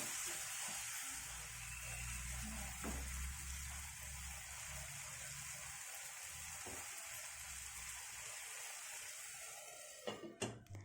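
Tomatoes with salt sauté in a pan for tomato thokku, giving a soft, steady sizzle that runs throughout, with a few clattering stirring knocks close by at the end.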